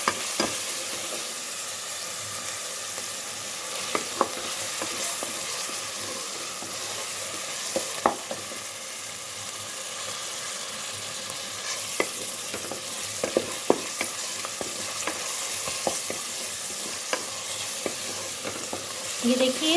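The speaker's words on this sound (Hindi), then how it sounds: "ये देखिए माशाल्लाह से प्याज कितना अच्छा शैलो फ्राई हुआ है।" Onions with garlic-ginger paste shallow fry in a pan with a steady, close sizzle throughout. Occasional stirring scrapes and small pops sound over the hiss.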